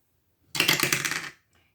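Dice rattle and tumble across a surface during a savings challenge game, a single dense clattering burst of about three quarters of a second, close and fairly loud, then silence.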